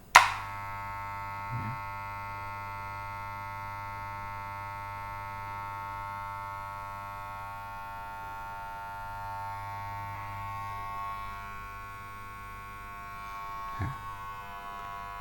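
A corded Union Fade Master FM-002 hair clipper buzzes steadily for the whole stretch, a thin constant hum close by, with a couple of faint clicks and handling bumps.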